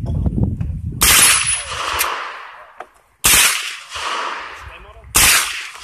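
A suppressed firearm fires full-auto bursts outdoors at a silencer range, three loud rapid strings each trailing into a long echoing decay, with low rumble before the first.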